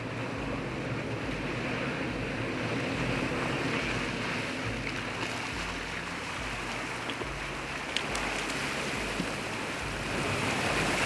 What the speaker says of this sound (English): First vehicle across the Muddy Creek River.